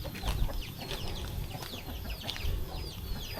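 Many chickens cluck softly in a rural Javanese village in Semarang Regency, Central Java, a faint, scattered chorus of short calls over a quiet outdoor background.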